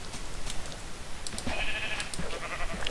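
A Minecraft sheep bleats in short wavering calls over steady in-game background noise, moderately close and with no talk.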